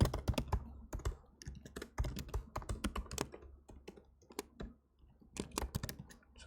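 Rapid clicky typing on a computer keyboard during a competitive coding contest, close and fairly quiet, with bursts of keystrokes broken by short pauses and no talking.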